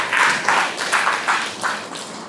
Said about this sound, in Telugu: గట్టికి కొట్టండి చప్పట్లు